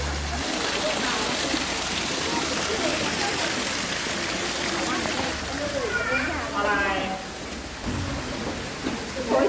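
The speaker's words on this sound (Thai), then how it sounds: "ตรงนี้เป็นมุมน้ำตกค่ะ" Steady rushing waterfall at a Buddhist temple in Ubon Ratchathani, Thailand, a continuous broadband roar of falling water heard close, with someone talking over it and other voices briefly in the background.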